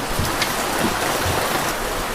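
Heavy rain pours down in a steady, dense hiss with scattered drops spattering on surfaces close by, continuous and unbroken.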